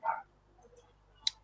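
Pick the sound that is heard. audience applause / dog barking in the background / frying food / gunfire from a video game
dog barking in the background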